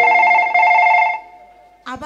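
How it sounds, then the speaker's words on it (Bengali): A phone rings with an incoming call, its electronic tone repeating loudly for about a second before fading, and then a voice starts speaking. "আবার ফোন ঢুকেছে।"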